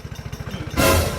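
Motorcycle engine idling with a steady low pulsing, then a louder, rougher burst of engine noise partway through that sounds odd and strained, close by with no talking.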